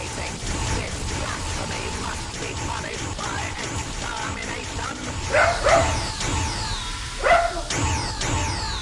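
A dog in the Doctor Who video game yelps and barks in a few sharp, rising cries amid game noise and mechanical clatter, the loudest calls coming in the second half.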